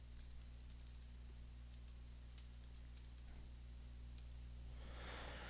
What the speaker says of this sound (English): here you're going to input a Postgres SQL admin password